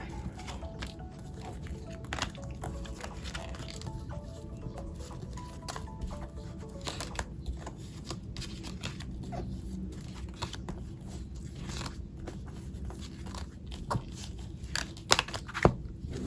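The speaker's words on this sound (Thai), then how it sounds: "ขอเลือกไพ่ให้นะสิบใบนะคะ" Tarot cards are shuffled and drawn by hand for a love reading, giving soft papery rustles and scattered light taps and flicks that run steadily for the whole stretch, close up and fairly quiet, with no talking.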